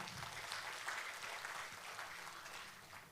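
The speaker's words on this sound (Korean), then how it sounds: "박수 부탁드립니다." Audience applause at a Democratic Party joint campaign rally in Iksan, greeting an introduced official; a steady wash of clapping that holds evenly throughout, moderately loud and without voices on top.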